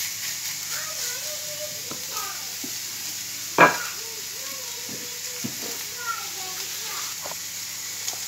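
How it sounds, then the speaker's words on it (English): A ribeye steak sizzles in a hot pan as its fat renders, giving a steady, soft frying hiss throughout with one sharp clatter partway through, while a person talks over it. "So you start cooking this fat through the steak. Okay, we'll just put it straight onto there. Hear that lovely sizzle."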